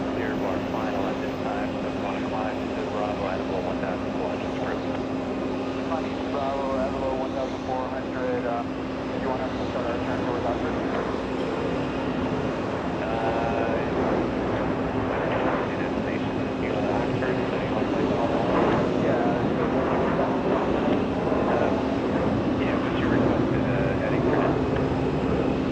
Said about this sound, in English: CRJ 900 heading to Syracuse, getting a move on, a departure on 4 left